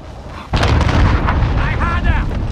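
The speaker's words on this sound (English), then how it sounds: "Enemy cruise missile!" A cruise missile strike in the video game Call of Duty Modern Warfare erupts as a sudden loud, rumbling blast that keeps roaring under continued battle noise and crackling, while players talk over it.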